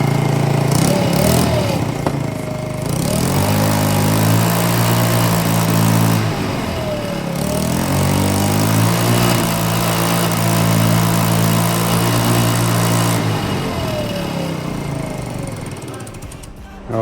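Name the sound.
scooter engine running during repair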